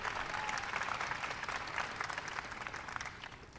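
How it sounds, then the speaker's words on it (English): Audience applause at a White House astronomy night event, a dense, steady wash of many hands clapping that holds evenly throughout without any voices rising above it. "Stand up, Phoebe, so everybody can give you a big round of applause."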